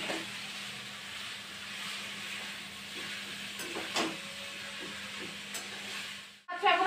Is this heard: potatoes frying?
yes